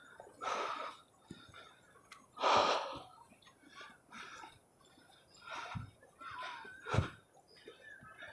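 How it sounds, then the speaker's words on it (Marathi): Heavy, ragged panting after a jog up a hillside, as a series of loud breathy gasps and exhales at irregular intervals, close to the microphone, with faint background noise between breaths. "मला लागतोय दम"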